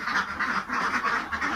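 Farm ducks kept for egg laying quack in a steady, overlapping chorus of repeated calls, close and fairly loud with no talk over them.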